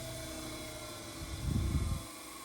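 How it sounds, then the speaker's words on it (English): A bench grinder on an endmill sharpening jig winds down with a steady mechanical hum, then a brief low rumbling scrape midway as it is slowed by hand, before the hum settles again. "This grinder takes an age to slow down, so I cheat."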